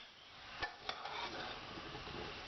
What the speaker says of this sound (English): So we need to get that stirring.